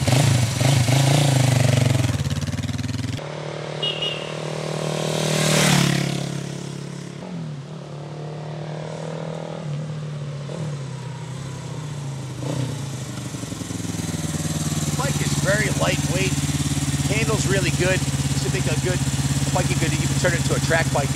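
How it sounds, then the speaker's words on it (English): A 1977 Suzuki GS400 motorcycle in sixth gear passes by at low revs on a road. The engine drone swells as it approaches and fades as it moves off, then a steadier engine note comes back close by near the end. "Let's do a quick drive-by. So I'm gonna put it in six when I go by."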